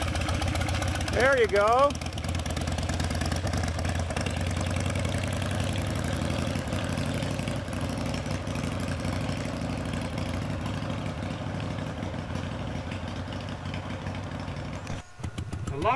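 Custom Harley-Davidson motorcycle engine idling steadily with a low, continuous rumble, close by, while someone speaks briefly over it.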